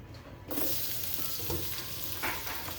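Boiled pork stir-fried in the oil it releases, a sudden loud sizzle that starts after a quiet moment and continues with scraping stir strokes, close up, no talking.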